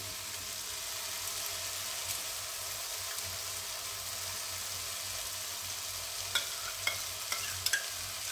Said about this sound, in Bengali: আমি এবার দইটা দেবো, ফেটানো দইটা দিয়ে দিচ্ছি।